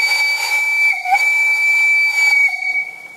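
The whistle of a 141 R steam locomotive gives a loud, shrill, steady tone that holds for about three seconds with a slight hiss of steam. It is close and unbroken, with no talking.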